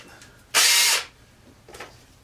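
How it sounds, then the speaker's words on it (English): A power drill boring pilot holes during assembly of a handstand trainer: one loud, close whirring burst of about half a second, followed by a fainter, shorter spin. "it's going to make some pilot holes first here."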